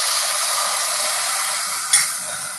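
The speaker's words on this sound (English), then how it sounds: "So now I'm going to pour in my stock." Stock poured into a hot pan on high heat for a Rosh Hashanah dish, giving a steady, close, bright sizzle with a brief sharper crackle near the end and no talking.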